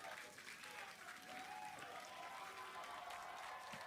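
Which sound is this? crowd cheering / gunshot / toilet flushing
crowd cheering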